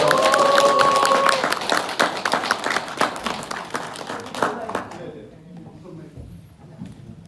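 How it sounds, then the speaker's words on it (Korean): An audience at a political lecture event claps in welcome, a dense burst of applause that gradually fades over several seconds into quieter room noise. "여러분 큰 박수 부탁드리겠습니다"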